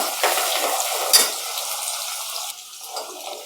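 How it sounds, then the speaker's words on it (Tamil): Onion and garlic sautéing in a pan for sundakkai vathal kuzhambu, a soft, steady sizzle with light stirring and a brief louder scrape, fairly close and without voices. "வெங்காயத்தை சேர்த்துக்கலாம். பூண்டையும் சேர்த்துக்கலாம். இது நல்லா செவக்கிற அளவுக்கு நம்ம வதக்கிக்கிடுவோம்"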